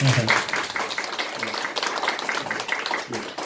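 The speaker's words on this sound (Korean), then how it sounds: "잠깐 박수로 환영했습니다." A church congregation during a Sunday worship service claps briefly in welcome, a short patter of hand claps heard with some voices over it.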